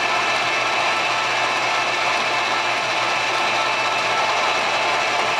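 A ratchet cranks a shoulder bolt into place, giving a steady, continuous metallic clicking and whirring that runs loud and close for the whole stretch with no pauses.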